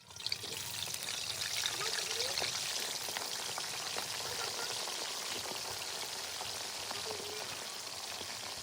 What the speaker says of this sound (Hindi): तो दोस्तों हमने गोभी रख दी है फ्राई करने के लिए